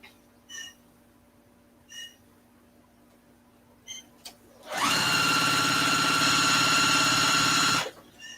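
A sewing machine runs in one steady burst of about three seconds, stitching tote bag handles together, after a few short faint squeaks and a quiet stretch.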